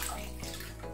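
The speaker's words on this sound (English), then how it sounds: "Generously pour your distilled water, or in this case reverse osmosis water," Reverse osmosis water poured generously over a telescope mirror during cleaning, a soft continuous splashing trickle, close and quiet, lasting about a second.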